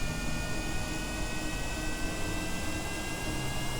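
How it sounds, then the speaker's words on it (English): The experimental J-35 jet engine of an aircraft in Kerbal Space Program runs at a steady, loud roaring whine with a constant hiss, unbroken throughout and without voices. "prepared to take the new jet for a test flight"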